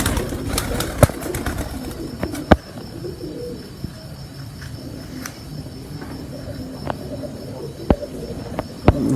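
Pigeons coo softly in the background while sharp clicks and taps ring out at irregular intervals, with faint chirping and insect buzz throughout.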